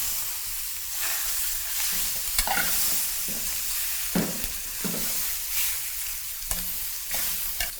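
Bones brown in a hot pan for stock with a continuous sizzle, broken by repeated stirring scrapes and light knocks close by.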